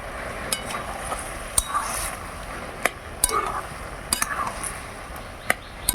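Chili powder being stirred into bottle gourd and shrimp in a pan over a wood fire, with a scraping, gently sizzling stir broken by sharp clinks of a utensil against the pan at irregular intervals.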